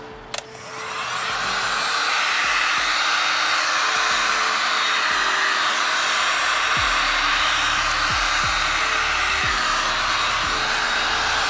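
A hair dryer blows steady heat onto the sticker of a switchback fog light for a 10th gen Honda Civic, a loud continuous whoosh that starts after a brief click and runs unbroken with a few faint knocks underneath.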